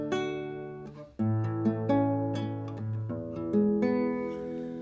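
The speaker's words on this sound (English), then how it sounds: "the kind of sound that you get is a quite soft, sort of gentle sound" A nylon-string acoustic guitar played softly, with gentle plucked notes and chords in an unhurried, melodic line, close and clear with no voices.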